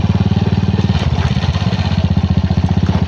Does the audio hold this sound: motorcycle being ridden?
yes